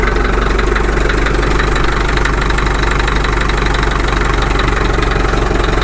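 A rebuilt Caterpillar D2 diesel engine idling at low speed, a loud, close, steady rhythmic chugging with a dense knocking pulse that continues unchanged throughout.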